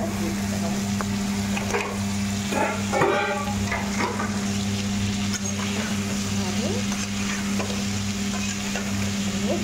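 Boiled cauliflower and potato pieces being stir-fried in a pan for a katla fish and cauliflower curry, with a continuous sizzle and intermittent spatula scrapes and clinks close by over a steady low hum.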